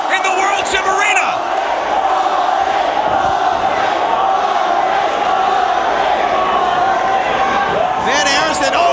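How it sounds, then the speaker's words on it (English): Dense, roaring crowd noise fills a wrestling arena, the World Gym Arena, with loud rhythmic chanting from a packed audience sustained throughout, and sharp yells bursting out at the start and again near the end. "And now the crowd chanting for all day Will Lockhart. It is deafening here in the World Gym Arena."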